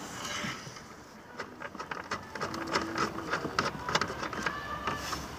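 Socket wrench with an extension loosening a 15 mm bolt on the dashboard of a 1998-2005 GMC Sierra or Chevy Silverado, a rapid run of small ratcheting clicks, close and fairly quiet, with no voices.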